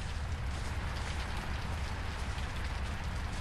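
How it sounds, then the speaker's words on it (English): Heavy rain falls outside in the video game Zoochosis. The downpour makes a dense, steady hiss and patter, constant and loud, with no speech. "at least it's piss raining, bro, outside"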